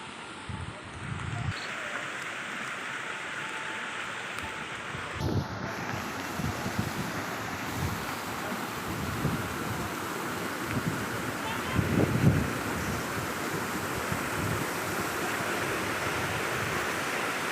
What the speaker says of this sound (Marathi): त्याच्याखालून एक सुंदर असा धबधबा खळखळ आवाज करत वाहत होता